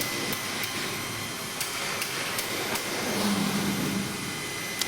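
Power tool fixing a metal angle to a wall for a metal false ceiling installation, a steady mid-pitched whine with sharp periodic clicks, continuous at moderate loudness throughout.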